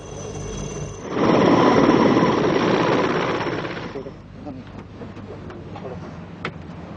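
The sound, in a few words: helicopter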